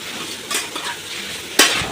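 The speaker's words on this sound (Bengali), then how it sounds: "মাছগুলো ভালো করে মিশিয়ে নেওয়া হচ্ছে জিরের গুঁড়ো দিয়ে।" Catfish pieces being stirred with cumin powder in oil in a frying pan: soft scraping stir strokes over a gentle sizzle, with one louder clink of the utensil near the end, no talking.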